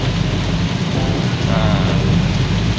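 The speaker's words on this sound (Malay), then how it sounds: "On the way Banting hujan." Heavy rain pours steadily and loudly onto a car driving along a road on the way to Banting, Malaysia, a dense unbroken wash with a low rumble beneath and no voices.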